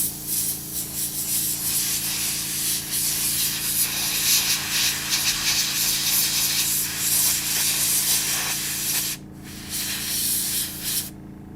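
Spray paint or airbrush hissing onto a miniature demon monk figure, a continuous close airy hiss with small fluctuations over a low steady hum, cutting off briefly near the end.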